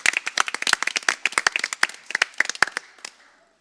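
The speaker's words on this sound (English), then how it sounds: "Let's give everyone a big round of applause again." A small group at a school board meeting claps briefly, a quick burst of sharp hand claps that thins out and fades within a few seconds.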